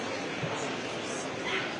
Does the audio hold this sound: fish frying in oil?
no